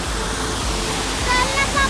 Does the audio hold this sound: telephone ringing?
no